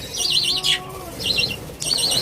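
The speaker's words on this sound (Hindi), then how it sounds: "कमरे में ये परिंदे हैं, तोते हैं मेरे पास" Parrots and lovebirds kept indoors in a room chirp in bright, rapid bursts, two busy twittering passages separated by a short lull, close and fairly loud with no talk over them.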